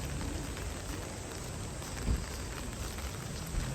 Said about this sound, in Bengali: বৃষ্টি পড়তেছে, তারপরও অনেক টুরিস্ট এখানে